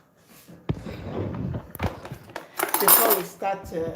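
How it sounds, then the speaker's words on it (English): Ingredients for a turkey dry brine are mixed in a bowl with clinking utensils: irregular scrapes, taps and clatters of metal on dishware, close and moderately loud, with no talk. "first let me mix the ingredient for the dry brine before we start"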